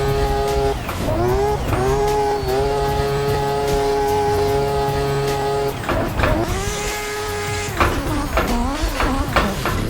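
Mazda RX7 drift car from the Virtual Drift Championship in Assetto Corsa, its rotary engine wailing loud and close with rising and falling revs, shifts and bouncing limiter bursts through a drift run.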